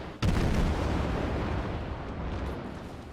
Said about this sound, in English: His little 5-inchers are trying to shoot you